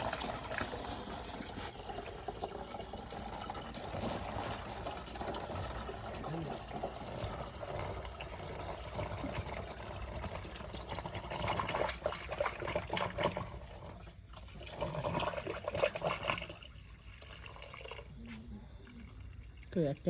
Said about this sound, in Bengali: আমি ঢালছি